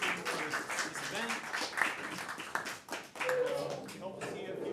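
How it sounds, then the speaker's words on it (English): A developer meetup audience claps to thank Trilogy Education for hosting the event, uneven hand claps from a modest crowd with voices chattering through it. "I'd like to just wrap this up with a round of applause for Trilogy Education"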